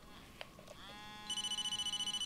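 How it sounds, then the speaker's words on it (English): A phone ringing in the horror video game Blair Witch: after some faint rustling and tones, a rapid electronic trill starts and repeats steadily in close, clear pulses. "We got a phone call."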